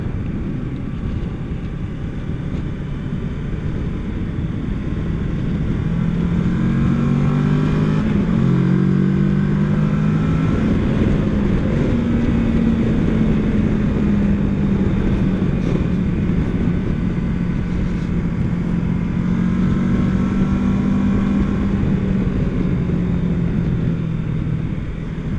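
A 2020 Kawasaki Versys 650 adventure motorcycle drones loud and steady while riding through turns, its engine pitch rising and falling gently over strong wind rush.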